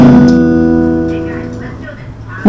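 A single plucked acoustic guitar chord rings out and slowly fades, with a faint new attack right at the end.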